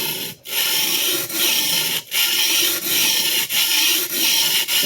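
A vintage Clyde Cutlery chef knife being rebeveled on a sharpening stone gives a steady gritty rasp in long, repeated strokes, broken by short pauses as the blade is repositioned. The sound is close and loud, with no talking.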